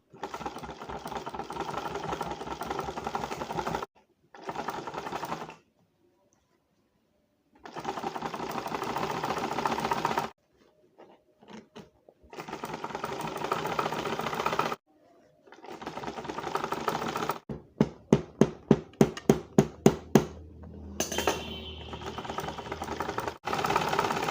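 A sewing machine stitching a cape runs in several loud, close bursts of rapid mechanical whirring, separated by silent pauses. Near the end comes a stretch of distinct, evenly spaced thumps as the needle moves more slowly.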